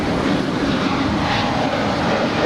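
A United airliner takes off from runway 25 right at LAX with a steady, broad engine roar, moderately loud and constant for the whole stretch. No voices come through.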